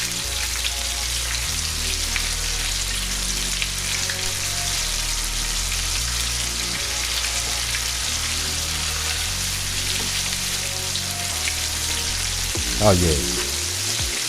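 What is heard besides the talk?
pickle brined coated chicken deep frying in grease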